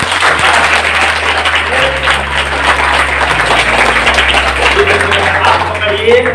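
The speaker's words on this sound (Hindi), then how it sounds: "चलिए ताली होना चाहिए।" A seminar audience claps steadily in dense, sustained applause, loud and close, with a voice speaking over it.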